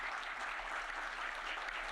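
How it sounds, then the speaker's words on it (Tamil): Audience applause for the artist Keshav at a Tamil book launch event, a steady wash of clapping hands heard from a distance, faint and even throughout with no voices over it. "நல்லாவே கைத்தட்டலாம் அவருக்கு"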